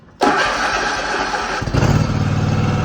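A farm mower engine cranks and catches with a sudden loud start, then settles into a rough, pulsing run close by, with no voices over it.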